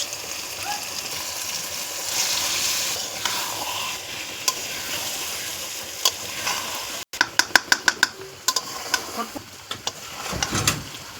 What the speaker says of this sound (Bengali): এখন দিয়ে দেবো লোটে মাছ